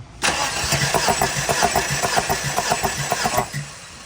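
A Tata CNG truck engine cranking over on the starter during a compression test, a rapid rhythmic chugging that runs about three seconds and then stops, loud and close with no talk.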